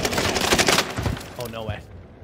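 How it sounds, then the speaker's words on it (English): Rapid bursts of gunfire crackle loudly in Call of Duty: Warzone on the Caldera map, dense for under a second before thinning out, with a voice briefly speaking over the tail. "Taking fire."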